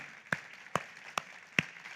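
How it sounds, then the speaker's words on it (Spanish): Sparse, evenly spaced claps from a church congregation, about one sharp clap every half second, faint and distant in a quiet room. "Damos un aplauso al Señor."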